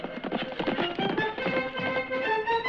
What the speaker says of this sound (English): From out of the past come the thundering hoofbeats of the great horse Silver